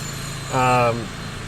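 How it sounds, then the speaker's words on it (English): A 1999 Dodge Ram 2500 pickup idles smoothly after an O2 sensor replacement, a steady low engine hum throughout, briefly overlaid by a short voice-like tonal sound in the middle. "It actually idles smooth."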